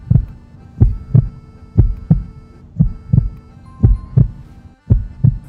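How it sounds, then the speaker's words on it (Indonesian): Steady heartbeat sound effect, a repeating double thump in an even rhythm, low and close, with no other sounds. "Suara berat Christian saat mengatakan hal itu membuat detak jantung Azura berdebar kencang."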